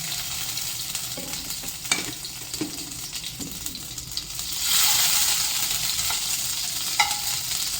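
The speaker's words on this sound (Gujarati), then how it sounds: "બટર બરોબર ગરમ થઈ ગયું છે" Butter with a little oil sizzles steadily in a pan for paneer butter masala, a soft continuous hiss with a few stirring clinks, swelling louder midway through.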